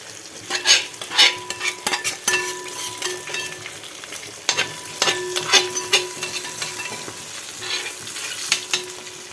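Freshwater fish frying in a pan sizzles continuously while a spatula stirs and scrapes the metal in irregular bursts of clinks and scuffs, heard up close without any speech.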